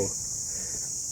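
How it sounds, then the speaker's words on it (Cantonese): Cicadas shrill steadily through a summer day at a mangrove ecological park, a continuous high-pitched buzz with no breaks, close and fairly loud throughout. "其實聽到啲蟬咧就冇間斷咁樣"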